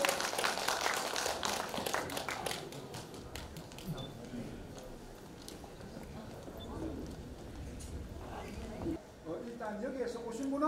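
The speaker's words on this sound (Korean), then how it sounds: "자, 여러분, 한 박수로 맞아주십시오." Applause and clapping from a crowd at an international amateur saxophone competition in Korea, strongest at the start and then thinning out, with talk and murmuring carrying on underneath.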